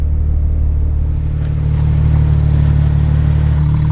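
A Porsche 992 GT3 fitted with a new exhaust idles and revs, giving a loud, steady low engine rumble with slight swells in pitch throughout.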